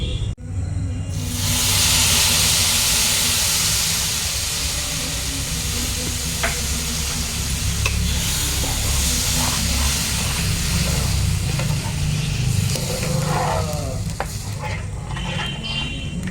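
Milk poured into a pan of lightly roasted white semolina for sweet semolina rasgolla, a loud hissing, steaming sizzle that rises at once and holds steady, with stirring scrapes and clinks close by.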